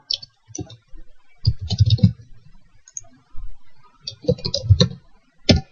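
Bursts of quick clicks come from a computer keyboard as a username is entered, in short uneven clusters separated by pauses, close and fairly quiet.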